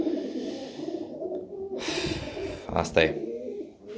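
Pet pigeons coo softly nearby among low rustling, with a brief burst of flapping or scuffling, while a person speaks over them.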